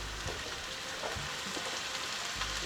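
Chopped tomatoes sizzle in a hot pot for an Italian meatball sauce, a soft crackling fry with faint popping, steady and fairly quiet over a few seconds.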